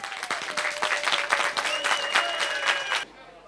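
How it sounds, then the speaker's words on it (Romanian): Audience applause at a village festival for a dance troupe from Lopadia Nouă, a lively spell of many hands clapping with distinct sharp claps standing out, then cutting off abruptly near the end. "Aplauze pentru formația de dansuri de la Lopadia Nouă."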